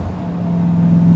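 A 1975 Chevrolet Corvette L82 V8 runs on a test drive, its engine droning steadily and close, with a low hum rising slightly in pitch and loudness as it pulls, no voices over it.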